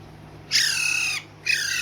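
Two bursts of shrill, harmonic chirping from hand-fed plum-headed parakeet chicks, close and fairly loud, with a short quiet gap between them.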